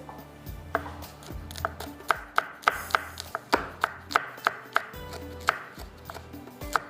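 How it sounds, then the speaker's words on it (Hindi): A knife chops green chilies finely on a board in quick, regular sharp knocks, about two per second, close and clear. No one speaks. "हरी मिर्च ले लीजिएगा, 1 से 2 बारीक चॉप करके डाल दीजिएगा इसके अंदर"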